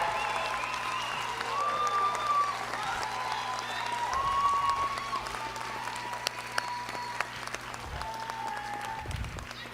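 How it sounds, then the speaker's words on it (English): Audience at an adult education graduation applauding the graduates, a moderate round of clapping in a hall, with some faint voices mixed in. "Give them a round of applause"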